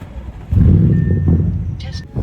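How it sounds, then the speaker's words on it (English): An Audi A8L engine cranks and fires up, settling into a loud, close rumble, with a short electronic chime over it. "every time I get gas, the startup is actually crazy"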